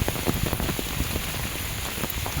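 Heavy monsoon rain patters densely on an umbrella overhead in the Konkan countryside, a continuous close hiss of countless drops with no voices.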